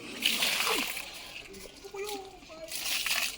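Water splashes and sloshes in short bursts near a house where a venomous snake hides in silt, with a voice and other talk over it.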